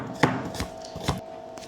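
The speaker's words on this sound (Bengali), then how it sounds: "পেঁয়াজ কাটা হচ্ছে" A knife chops onions on a cutting board for crispy onion fritters: a few sharp, close knocks spaced unevenly over a moment, with no talking.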